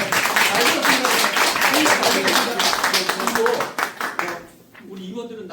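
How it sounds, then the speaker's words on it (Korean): A graduate school assembly audience applauds, dense rapid clapping filling the room for several seconds, then thinning out and fading as a voice begins to speak near the end. "자 박수로 한번"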